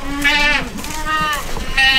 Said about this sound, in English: The baby goats are getting big quick.